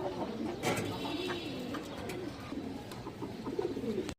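Pigeons, including khoira-neck breeds offered for sale, coo repeatedly in soft rolling phrases close by, with a steady murmur of other birds behind.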